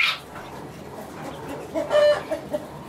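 Chickens cluck and murmur inside a coop fitted with spiral ladder perches, with short squawks rising near the start and again toward the end over a soft background.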